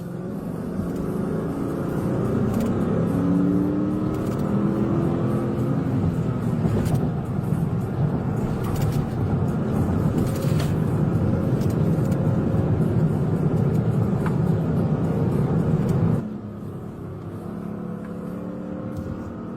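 A suspect's car speeds past during a high-speed police chase, its engine and road roar loud and sustained before dropping off abruptly near the end.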